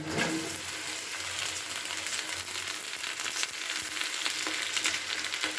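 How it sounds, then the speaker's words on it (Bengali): Onions fried until reddish, now with chopped vegetables added, sizzle steadily in a pan while being stirred, a dense continuous crackle with occasional scrapes, close and moderately loud throughout. "দিয়ে খুব ভালো করে আমি নাড়াচাড়া করে মিশিয়ে নিচ্ছি"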